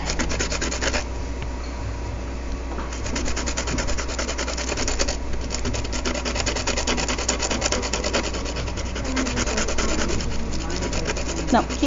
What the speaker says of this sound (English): Take your tool and just lightly rub it over the sandpaper.